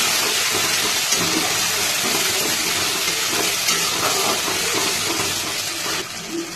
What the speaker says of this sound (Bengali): মশলাটা সুন্দর করে কষাতে হবে।